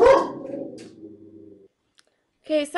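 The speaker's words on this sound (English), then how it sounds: "I'm sure you guys heard my dogs barking." Several dogs bark at home, loud harmonic yelps at the start fading into a low sustained whine, then a short silence before another loud burst near the end.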